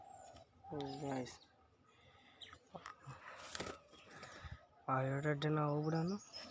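Pigeon cooing in two bursts of low, harmonic, throaty calls, near and fairly loud, separated by a stretch of quieter mixed bird and background noise.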